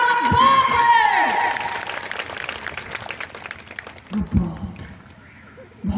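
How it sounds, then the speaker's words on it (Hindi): Audience at an annual Ambedkar Chetna Parishad conference breaks into loud clapping and cheering right after a speaker's voice, the crowd noise fading over several seconds with scattered claps at the end. "बहुत तालियां बजकर।"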